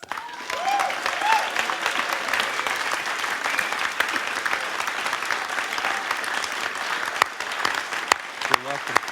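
An audience applauds Patti Austin as she receives an Edison Jazz/World lifetime achievement award: dense, steady clapping from a large crowd that carries on unbroken for the whole stretch, with a couple of brief whistles near the start.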